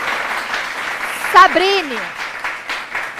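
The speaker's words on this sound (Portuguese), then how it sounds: "que tem plateia, pode aplaudir a professora" A school-event audience claps for a visual arts teacher, a short burst of applause running beneath a speaker's amplified voice.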